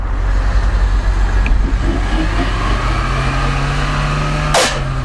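A Subaru drives during an all-wheel-drive test, its engine humming steadily close by for a few seconds before a brief sharp burst of noise near the end.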